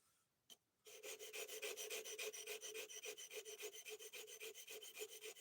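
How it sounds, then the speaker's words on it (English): An Elmax steel knife edge is sharpened freehand on a stone, with a single tap followed by steady, rhythmic back-and-forth scraping strokes, close and fairly quiet, about four strokes per second. "we're doing some freehand sharpening."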